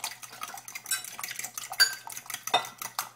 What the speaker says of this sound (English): So I'm going to whisk our wet ingredients